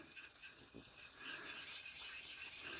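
A straight razor is honed on a coticle stone with slurry, giving a soft, continuous wet scraping rasp with faint repeated strokes, quiet and close, with no talking.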